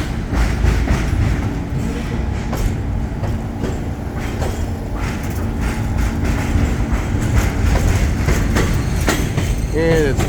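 An NYC subway train pulls into the Astoria Ditmars Blvd terminal with steady rumbling and clattering wheels, occasional clicks over the rails, and a brief wheel squeal near the end as it nears the buffers.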